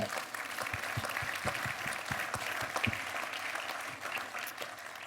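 Audience applause for guests at a regional community event in Vendée, a dense, steady clapping that runs evenly from start to finish at moderate volume.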